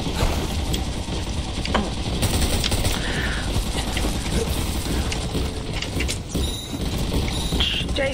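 Dense, rapid automatic gunfire rattles almost without pause during a PvP match in the game Undawn, loud and mechanical, with occasional sharper metallic clicks layered over the steady burst.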